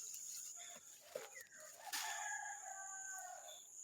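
A hen kept as a tethered farm animal gives faint, distant crowing and clucking calls, with no talk and light background noise.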